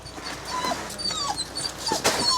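A dog whimpers with thin, high-pitched whines that come in short, repeated bursts. The sound is fairly quiet and close, with no talking.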